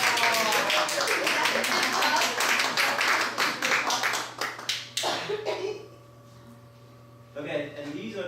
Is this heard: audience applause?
yes